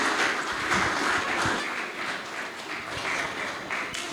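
An audience at a design community mixer claps together in a steady, dense round of applause that carries on throughout, loud and close, with no voices breaking through.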